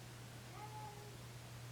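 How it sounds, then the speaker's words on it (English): A cat meows faintly once, a short rising-and-falling cry, heard over a steady background hum with no talking. "Can you hear my cat crying?"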